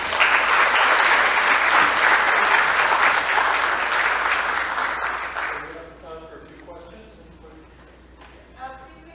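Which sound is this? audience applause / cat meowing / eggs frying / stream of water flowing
audience applause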